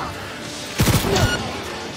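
A short, rapid burst of several gunshots from a weapon in Cyberpunk 2077, fired close and loud amid quieter game ambience.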